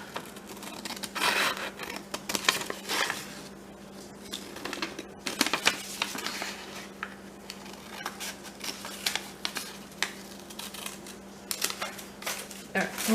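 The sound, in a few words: scissors cutting out a paper picture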